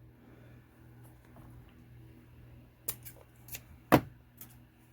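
Scissors make a few sharp snips while trimming excess material close to the body of a Mattel Baby Yoda doll, several quick, close cuts arriving late after a quiet stretch with a low hum underneath.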